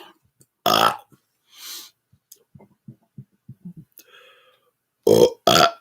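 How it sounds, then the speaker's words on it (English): Two pairs of loud, rapid-fire belches from a person performing a double burp, with quieter clicking mouth sounds and a soft breath between them. "Double burp, I believe, is the official name to what I dubbed rapid fire burping."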